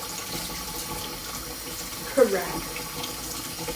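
Running tap water rinses a grater blade at a kitchen sink while someone chats; a steady faint stream with a short splash or clatter near the middle and a brief muttered word.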